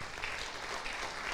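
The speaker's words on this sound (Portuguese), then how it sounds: "Diga amém, aplauda o Senhor por isso." A church congregation applauds, a brief, steady wash of clapping at moderate level with no pauses.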